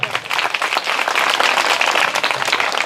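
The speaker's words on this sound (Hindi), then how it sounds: "रखो इन बच्चों की तालियां।" Schoolchildren clapping together at a government school, a loud, close, continuous burst of many small hands lasting about three seconds.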